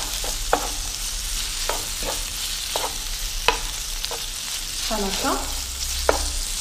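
Long strips of beef sizzle and fry in a pan while being stirred, with steady crackling hiss and scattered clicks of a utensil against the pan; a voice speaks briefly near the end.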